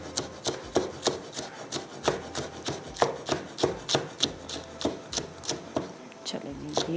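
A knife chops green chilli finely on a wooden board, a steady run of quick, close, evenly spaced cuts at a brisk rhythm, fairly faint.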